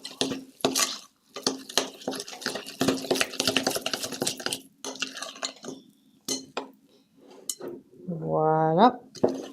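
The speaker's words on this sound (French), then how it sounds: "Là, tu vois, je viens bien mélanger." Galette des rois filling being stirred with egg in a bowl, with repeated scraping and clinking of a utensil against the dish in irregular bursts and someone speaking over and between the stirring.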